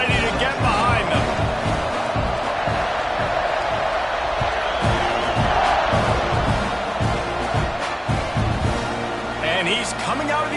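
A football stadium crowd roars continuously at kickoff in a UCLA game, a dense, loud wash of cheering and whoops that holds steady throughout, with a commentator's voice talking over it.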